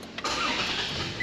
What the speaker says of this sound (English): Beginning engine restarting sequence now.